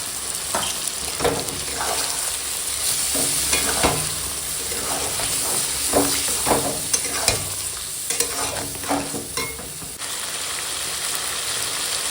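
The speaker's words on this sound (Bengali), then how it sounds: "টক দইটা দিয়েও না সুন্দর করে বেশ খানিক্ষণ কষালাম" Chicken stir-frying in a pan with tomato, onion and whipped sour curd, a dense steady sizzle broken by repeated scraping strokes of a spatula, close and fairly loud, no speech.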